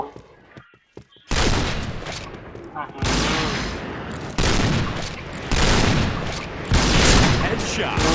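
Rapid sniper rifle shots and loud gunfire bursts in the online shooter Point Blank, several heavy blasts in quick succession after a quiet opening, close and forceful.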